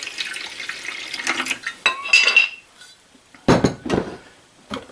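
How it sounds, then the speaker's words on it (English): White wine poured over venison steak in a pan or dish gives short splashing bursts between clinks of dishware, loud and close, with no voices. "So I'm going to put a pretty good bit of white wine in there"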